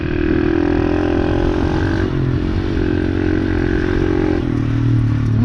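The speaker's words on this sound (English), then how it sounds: "Oh yeah, the Heinsohn engine laying down mega power." A DR70 motorcycle engine drones loudly and steadily while the bike rides through ruts, with a constant close-up mechanical hum and slight shifts in pitch, and no voices.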